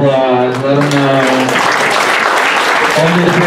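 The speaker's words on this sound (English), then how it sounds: "Give them all a round of applause." An audience at a high school comedy hypnosis show breaking into applause, a dense wash of clapping that builds and sustains, with a voice talking over it at the start and end.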